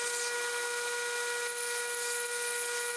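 A 400 grit ceramic belt sander works Kydex sheath material, giving a steady, loud high-pitched whirring hiss with a constant tonal whine that runs unbroken throughout.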